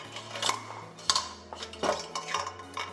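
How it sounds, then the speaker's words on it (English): Metal steamer basket fitted into a cooking pot for steamed eggs: a series of close clanks, scrapes and clinks of metal on metal, uneven and fumbling, with no talking. "Now put this steamer in."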